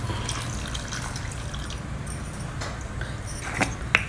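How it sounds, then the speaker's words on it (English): Tamarind extract is poured into bitter gourd cooking in a pan, a soft liquid splash and trickle near and fairly quiet, ending with a few small drips, and no one speaks. "At this stage you add in this tamarind extract."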